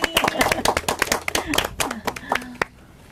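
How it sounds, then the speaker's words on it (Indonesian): An audience at a National Teacher Day talk show claps for two teachers, a burst of sharp, distinct handclaps that thins out and stops toward the end, fairly close. "kita tepuk tangan sekali lagi"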